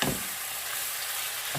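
Organic tomatoes sizzling in a pan with pork belly while sautéing green beans, a steady loud frying hiss throughout with no talk.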